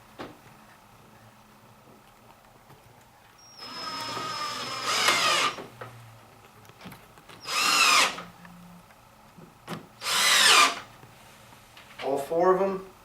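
A power drill drives screws into the legs of a flipped wooden headboard in three loud whirring bursts separated by short pauses, with quiet speech near the end.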